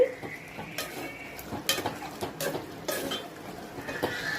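A spoon stirs a broad bean and tomato masala curry in a pan, with repeated scraping and clinking strokes against the metal over a soft sizzle, close and steady.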